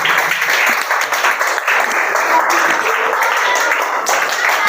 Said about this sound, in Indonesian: Kasih aplaus untuk kelompoknya.